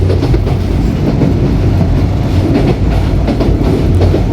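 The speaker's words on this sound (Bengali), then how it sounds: "এটি হচ্ছে রংপুর এক্সপ্রেস" Rangpur Express passenger train running on rails east of the Jamuna Bridge, a loud, close, continuous rumble with rhythmic clickety-clack of wheels and no talk.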